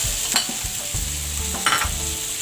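Sliced sausage and onion sizzle loudly in a frying pan, with clattering stirring scrapes and bursts of hissing spatter, close and without speech.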